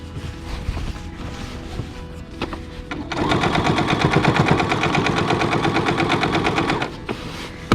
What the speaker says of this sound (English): I'm going to start just on the other side of the pocket, and I'm going to sew on, and I'm going to go around again